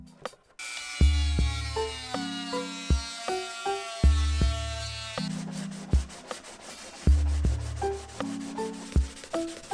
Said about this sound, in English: The edges are still fairly rough from being cut out, so I'm cleaning them up with sandpaper.